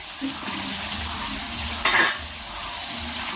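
Potatoes stirred and fried with chicken in a pan, a steady sizzling hiss up close with a brief louder burst of scraping and crackle partway through.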